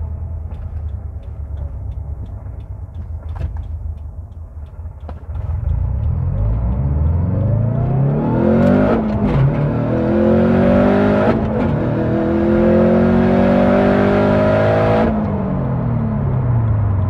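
Subaru STi fitted with a billet VF48 turbo and external wastegate accelerates hard on a test run, a loud rising engine roar climbing through several gear changes after a steady idle-like rumble, with turbo whoosh near and no talk.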